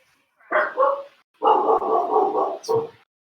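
A dog barks and growls in a rough, drawn-out burst, then a longer run of gruff barking ending with one short yelp, close and loud.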